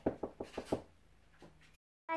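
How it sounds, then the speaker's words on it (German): Five sharp knocks on a toy door in a Playmobil play scene, evenly spaced and close up, followed by a quiet pause and then a brief sound. "Wir klopfen."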